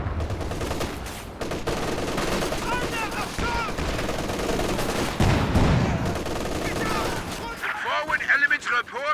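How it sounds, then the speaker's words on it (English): Scottish units unleash an artillery barrage in a war strategy game: dense, continuous bursts of gunfire and booming shots rattle on loudly, with a voice commenting over the din. "There's the barrage from the Scots"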